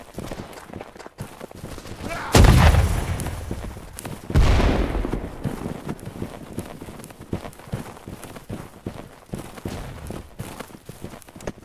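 A musket volley fired in a Holdfast: Nations At War line battle cracks out as two loud, sharp broadband bursts a couple of seconds apart, each trailing off, amid clattering footsteps and movement.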